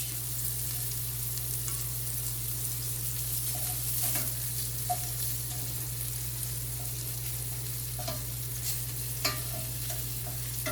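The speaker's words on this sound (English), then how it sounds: "We're just kind of like browning them up here." Meatballs browning in a frying pan, with a continuous, even sizzle and occasional light clicks of a utensil, steady and moderately close with a low hum underneath.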